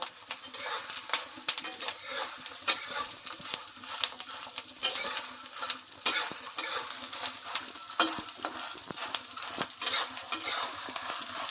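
Edible gum (gond) puffing as it fries in a pan for gond ladoo, stirred with a utensil: quiet scraping strokes and clinks over a faint, continuous sizzle.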